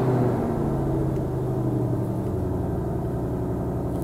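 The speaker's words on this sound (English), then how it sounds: "And you can hear it come to life" A white 2020 Ford Mustang Shelby GT500 engine runs in normal exhaust mode, settling from a rough rev into a deep, steady idle rumble, close and alone.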